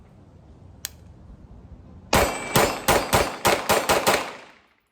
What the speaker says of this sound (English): Got 8 rounds of my defensive ammo. And let's see how it shoots through this gun.